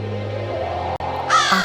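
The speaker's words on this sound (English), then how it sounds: "a crow was flying high up in the sky" A crow caws loudly and close, a sustained harsh call that breaks briefly and resumes, ending in a sharper, higher-pitched caw.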